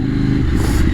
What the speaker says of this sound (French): Alors c'est une KTM Duke 2 cylindrées 890 cm3.